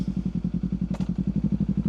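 Idling Kawasaki Ninja 500 parallel-twin engine, a 2025 model, runs in a steady close pulsing beat as it is put into gear, with one brief mechanical clack partway through.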